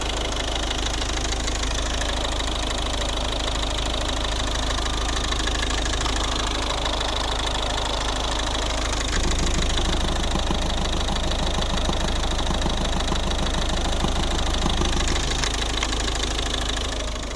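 A 1.6-litre diesel engine in a 2011 Volvo V50 idles steadily with a constant knocking clatter, the rhythm shifting slightly partway through.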